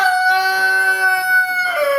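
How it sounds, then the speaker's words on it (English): A silver-laced Sussex rooster crows once, close and loud, a single drawn-out cock-a-doodle-doo with a strongly harmonic tone that breaks and shifts pitch near the end. "he's a very tame rooster"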